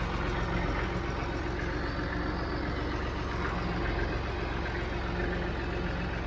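Perkins 3-cylinder 152 cubic inch diesel on a tractor idling, a steady low rumbling chug that holds even and unbroken throughout, close by.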